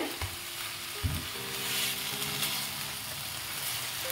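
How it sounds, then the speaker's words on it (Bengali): A spoon stirring restaurant-style veg chicken soup in a pan, with a soft steady sizzle and a couple of scraping knocks against the metal, close and continuous with no voices. "আর একবার একটু নেড়ে নিলাম।"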